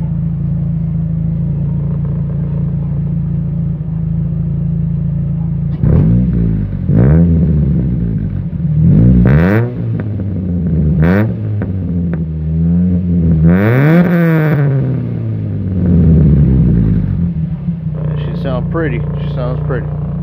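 A Nissan Altima U13 (Bluebird) engine sits idling, then gets several quick, loud revs that rise and fall close by, with one long sustained rev in the middle and a steady idle rumble underneath.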